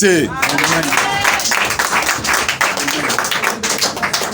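Congregation applauding during a church testimony service: brisk, dense clapping from a crowd with a voice speaking loudly over it at first.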